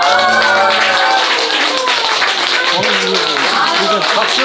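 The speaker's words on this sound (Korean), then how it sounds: "박수!" Audience clapping at a gathering with guests and a performance, a brisk rapid patter mixed with voices calling and cheering over it, loud and close throughout.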